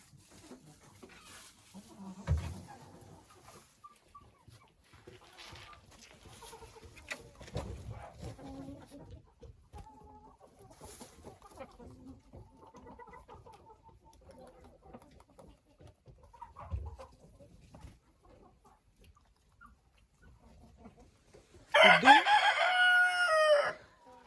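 Older hens sheltering from the cold cluck and mutter quietly inside a henhouse, then a rooster close by lets out one loud, ragged crow near the end.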